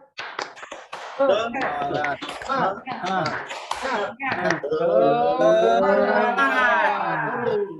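Children in a grade 1 physical education class do a rhythmic spirit clap (tepuk semangat), sharp patterned claps mixed with loud, close group chanting.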